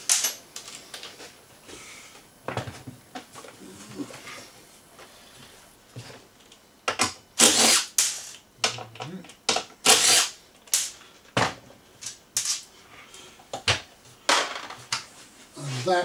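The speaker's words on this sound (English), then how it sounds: "we do that by undoing these two nuts on the bottom that secure it in the cradle" Nuts being undone beneath a Honda EX650 generator to free it from its cradle, heard as sharp metallic clicks and ticks in irregular bursts, near and fairly loud, with a stretch of quieter handling noise and a little talk earlier.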